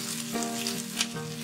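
Drumstick leaves stir-fry in a pan with onion, garlic and dried red chilli, giving a soft, even sizzle with a couple of brief stirring scrapes, faint and steady under a low hum.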